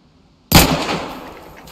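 A single sharp gunshot rings out in the video game DayZ, firing at a figure running far off, with a loud crack and a reverberant tail that fades over about a second.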